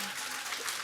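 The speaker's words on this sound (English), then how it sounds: "I love the clapping after each answer." Brief burst of audience clapping after an answer at a live conversation event with a cookbook author, steady and bright for under a second.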